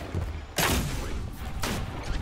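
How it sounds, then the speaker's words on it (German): Two sharp, loud gunfire bursts from the video game Destiny 2: Forsaken, about a second apart, each with a short ringing tail over a steady game background. "Irgendwann geht der Schuss los."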